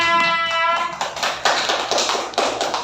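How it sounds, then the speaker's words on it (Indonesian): A classroom audience clapping for a student presenter, scattered close-up claps that pick up after a held tonal sound at the start, with no talk. "Tepuk tangan buat Mbak Nada"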